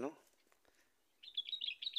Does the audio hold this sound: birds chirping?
yes